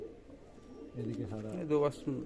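Pigeons cooing in a loft, a few soft throaty coos rising near the end of a quiet moment, close by, over faint background noise.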